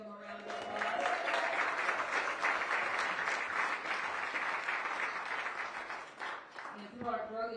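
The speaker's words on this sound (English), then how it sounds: "Can we give them a round of applause?" An audience applauds for community champions at a World Cup draw watch party in Los Angeles: a steady burst of many hands clapping that swells in, holds, then fades as a voice resumes speaking.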